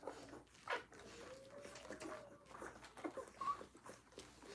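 Newborn puppies whimpering and squeaking in a litter, faint high whines and little yelps close by, rising and falling, with no talk.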